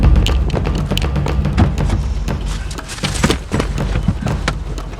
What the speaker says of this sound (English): The way we did this was by adding dramatic sound effects to amp up the intensity of it